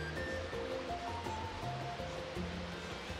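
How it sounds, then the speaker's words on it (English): Rushing waterfall in the video game Biped, a steady broadband wash of falling water heard continuously alongside tonal game music, with no voices. "That's a waterfall!"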